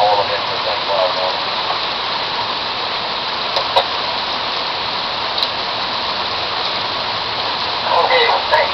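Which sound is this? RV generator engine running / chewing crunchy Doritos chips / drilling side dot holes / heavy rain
heavy rain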